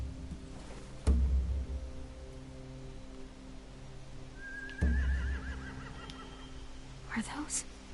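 Horses in The Walking Dead video game give a whinny near the middle, over a low ambient game soundscape punctuated by two heavy thuds, with a faint whistling call near the end.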